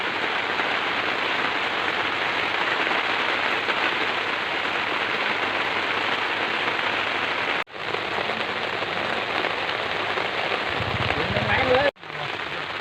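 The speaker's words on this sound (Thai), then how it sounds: "น้ำขึ้นครับเรื่อยๆครับฝนตก ไม่หยุดเลยครับ" Heavy rain pours steadily, a dense, loud hiss of drops drumming on surfaces, continuing without pause, with a couple of brief dropouts.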